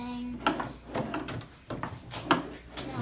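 A hotel room drawer at the Embassy Suites in Niagara Falls being slid open and shut, producing a few close wooden scrapes and knocks in irregular succession.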